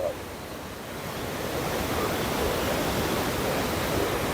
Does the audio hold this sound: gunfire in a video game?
no